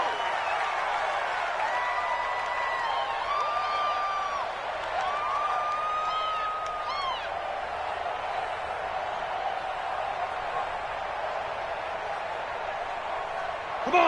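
Crowd noise from an NFL stadium during a Cowboys versus Redskins football game, a steady wash of massed voices with some whistle-like tones rising over it, distant and sustained throughout.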